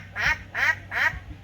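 A voice imitates a duck on a park pond, giving three evenly spaced nasal quacks, close and clear.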